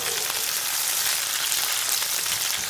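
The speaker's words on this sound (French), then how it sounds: "j'ai bien fait revenir l'oignon. Je vais ajouter donc la tomate et le piment vert" Onion, tomato and green chili sizzle and fry steadily in a pan for a vegetarian Pakistani shimla mirch dish, a continuous close crackling hiss with no talking.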